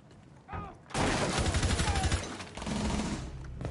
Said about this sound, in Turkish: Delik delik açmış oraya, delikten vuruyor.